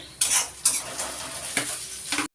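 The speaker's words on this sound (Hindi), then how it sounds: "अब मैं टमाटर डाल देती हूँ कटे हुए।" Kitchen pan clatter as chopped tomatoes go into a pan of cooked onions and dry spices, with a few distinct clanks and scrapes of utensil on metal over a soft background sizzle, close by and without talk.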